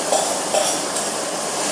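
Fried Maggi noodles drop into a metal cooking pan, a few clinks and scraping rattles over steady sizzling hiss, close and fairly loud.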